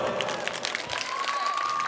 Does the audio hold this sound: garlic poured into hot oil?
no